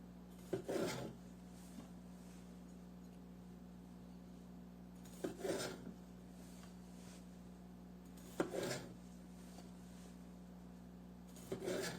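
A knife cuts cherry tomatoes into halves in a quiet home kitchen while a Greek salad is made. Four brief, soft cutting strokes come several seconds apart over a steady low hum.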